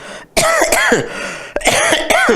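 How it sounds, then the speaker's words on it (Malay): Several loud, harsh coughs come close together in two bursts, near and forceful, with a brief pause between them. "sorry asyik dengar batuk je"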